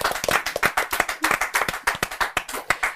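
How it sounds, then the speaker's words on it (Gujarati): Close, dense clapping from a studio audience on a Gujarati podcast set, many hands striking in quick uneven bursts with no talk over it. "જોરદાર તાળીઓ મોનલ ગજ્જર."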